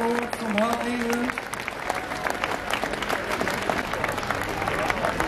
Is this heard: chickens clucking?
no